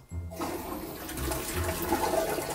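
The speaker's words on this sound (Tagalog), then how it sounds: "yung kagandahan dito ng toilet na to, pag ini-flush mo" A Japanese-style toilet in an Osaka apartment flushes loudly and close by, a steady rush of water swirling and draining throughout, with no talking.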